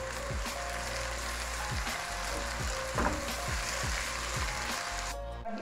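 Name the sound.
finely chopped tomatoes and onion being fried and stirred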